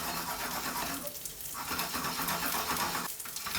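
A Korean chive pancake (buchujeon) fries in oil in a pan, giving a steady, close sizzle with faint scraping as the pan is shifted back and forth.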